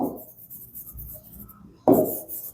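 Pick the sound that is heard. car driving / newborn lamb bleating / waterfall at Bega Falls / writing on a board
writing on a board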